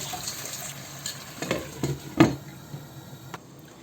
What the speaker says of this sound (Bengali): মাংসটাকে একটু রান্না করে নিতে হবে আর আমি এটাকে ঢেকে রান্না করে নেব